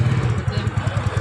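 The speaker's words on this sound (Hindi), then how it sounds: "अभी स्टार्ट करेंगे गाड़ी को।" Starting up a TVS Ntorq scooter brings a steady, close engine idle with regular low pulsing beats throughout, and a voice talks briefly over it.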